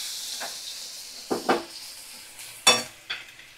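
Spice powders and ginger-garlic paste being stirred in hot oil, with a faint steady sizzle and a few sharp scraping strokes of a spoon against the pan, close up.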